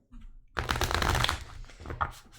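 Tarot cards are shuffled close to the microphone: a faint start, then a dense, loud riffling burst that tapers into a few softer shuffles.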